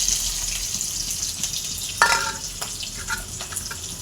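Chopped garlic fries in hot oil with a continuous sizzle, broken by a sharp clatter and a few stirring knocks partway through, with no voices.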